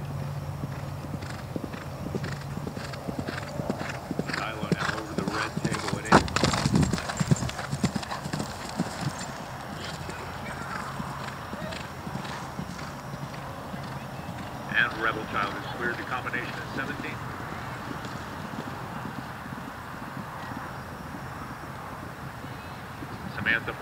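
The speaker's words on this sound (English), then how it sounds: "Caroline Matt, with the 11-year-old Irish Sport Horse, Gelding Kilpatrick Orlando." An 11-year-old Irish Sport Horse gelding gallops a cross-country course at a November horse trials, steady drumming hoofbeats running throughout, with a brief whinny and an announcer talking over the top.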